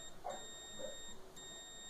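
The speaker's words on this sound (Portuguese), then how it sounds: "coloquei as duas pontas de prova e deu bip" A digital multimeter gives a steady high-pitched continuity beep while its probes test an electric oven's heating element, a thin continuous tone that breaks briefly and resumes, fairly faint against quiet room noise.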